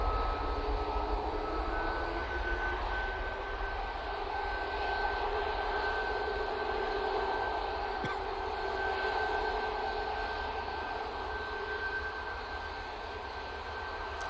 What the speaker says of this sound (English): Ryanair 737-800. Off to Belfast now.